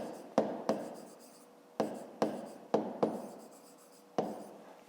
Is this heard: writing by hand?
yes